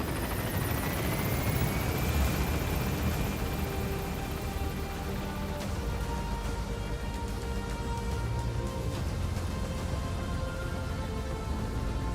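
An extraction helicopter climbs away in Metal Gear Solid V, its rotor wash a dense, steady whirring roar with a rising whine, continuous and close, sounding almost like heavy rain.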